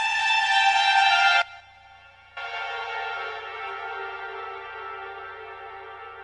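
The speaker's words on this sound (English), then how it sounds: "which is going to make it sound like this chap is playing his trumpet across deep space" A trumpet drenched in a deep-space reverb preset, with a bright sustained note that cuts off, a brief hush of trailing echo, then a second long, lower tone hanging in a wide, washed-out ambience.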